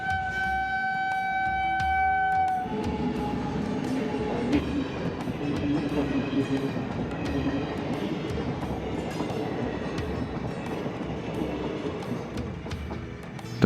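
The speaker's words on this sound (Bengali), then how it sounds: "তো ট্রেন চলে গেল" A train rumbles past a railway level crossing with a gate, loud and close with continuous rolling wheel noise; a steady warning tone sounds at the start before the passing train drowns it out.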